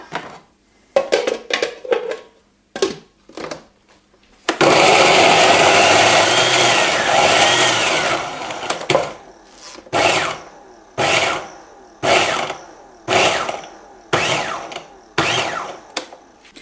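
Blender chopping onion, carrot and garlic for Spanish meatballs, a series of short loud whirring pulses followed by one long continuous grinding run, then more rhythmic bursts separated by silence.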